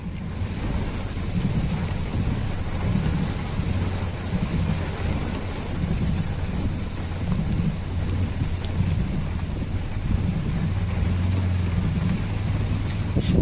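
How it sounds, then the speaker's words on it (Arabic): Heavy rain pours steadily over Bani Issa during a flooding storm, a dense, loud hiss with a deep low rumble of thunder and running water underneath throughout, with no voices. "أمطار وسيول بلاد بني عيسى."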